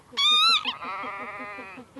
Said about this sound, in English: there might be a sheep in there, mightn't there?